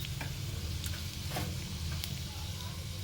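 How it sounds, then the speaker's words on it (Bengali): Panch phoron spices fry in hot oil with a dense, close crackling sizzle, while a spoon scrapes and clicks lightly as the seeds are stirred. "পাঁচফোড়নটা ভাজা হয়ে গেছে।"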